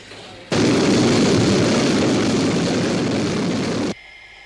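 Sky 1 interceptor aircraft from the UFO sci-fi series lifting off with a sudden loud, steady jet roar that holds for about three and a half seconds, then cuts off abruptly.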